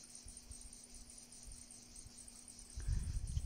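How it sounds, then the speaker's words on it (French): Faint, continuous high-pitched insect chirring from cicadas far off, with a low rumble and soft handling noise near the end. "Je sais pas si vous entendez les cigales"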